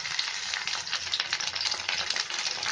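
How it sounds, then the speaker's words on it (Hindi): Onion and tomato fry in a pan with a steady, dense sizzle, close and continuous, with faint crackles and stirring scrapes and no talk. "तो इसे हम फ्राई करेंगे, हल्का ब्राउन हो जाएगा प्याज"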